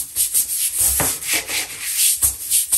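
A bathtub surface is scrubbed by hand to lift rust stains, giving close, steady back-and-forth rubbing strokes in an even rhythm with no talking.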